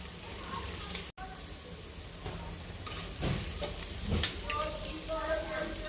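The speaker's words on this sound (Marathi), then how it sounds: "कांदा गुलाबी होईपर्यंत छान परतून घेऊया" A large chopped onion sautéing in a pan until pink, with a steady close sizzle, a few spoon stirs and scrapes, one sharp click early on, and a voice speaking over it.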